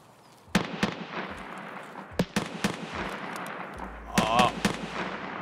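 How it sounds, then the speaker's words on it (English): Video game gunfire with several sharp shots cracking against rock cover, spaced irregularly over steady background noise, with a denser burst of impacts near the end. "I'm literally being shot at through a rock."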